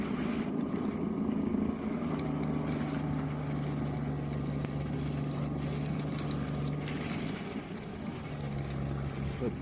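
A snowblower mounted on a Spyker KAT 2X clearing snow, a steady droning engine hum that holds constant throughout with wind-like rushing over it, no talking.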